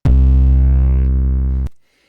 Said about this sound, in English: I'm also gonna add distortion. What a crazy 808, huh?